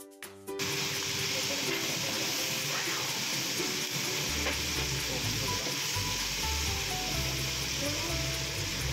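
Bihon and canton noodles with rock salt, oyster sauce and squid balls stir-fry in a pan, a steady sizzle and scraping of stirring under a low hum, after a brief start of background music.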